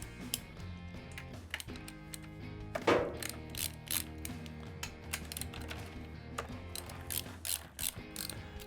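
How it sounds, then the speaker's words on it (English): Ratchet with a 5/16 socket bit clicks repeatedly while loosening Harley-Davidson air cleaner breather bolts, crisp rapid pawl ticks in bursts, close and fairly quiet, with no talk. "So now we'll change to a different socket head bit, which this one's going to be 5/16 for the breather bolts."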